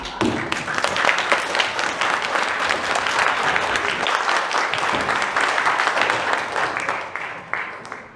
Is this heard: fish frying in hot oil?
no